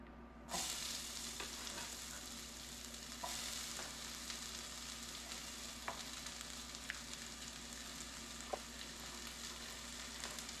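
Sliced green pepper frying in a little oil in a pan, a steady soft sizzle beginning abruptly and continuing with occasional small pops and clicks, fairly quiet and close.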